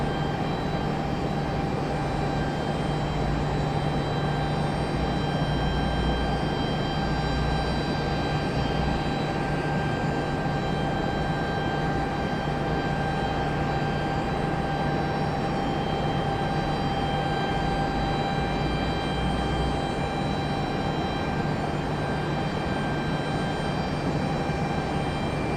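Southwest airliner departing Raleigh-Durham airport, a steady, broad engine roar with a low hum, heard at a distance and holding constant throughout without voices.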